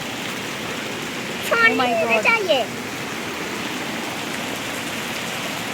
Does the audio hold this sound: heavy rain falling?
yes